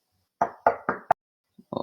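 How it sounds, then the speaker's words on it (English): Four sharp knocks on a door come in quick succession, close and distinct against silence, followed by a faint thud and a short rattling sound. "why do I hear a knock on my door?"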